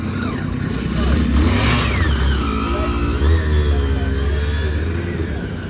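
A nearby Aprilia motorcycle engine revs up and down in rising and falling sweeps at an owners' club rally, loud and close, with people talking in the background.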